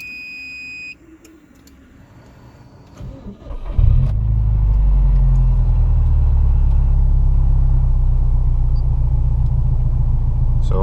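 A car on a road in Tallinn, Estonia, starts up with a brief buzz, then settles into a steady, loud low engine rumble close by, with no talking.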